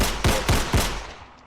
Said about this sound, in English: You can use all the gunshots,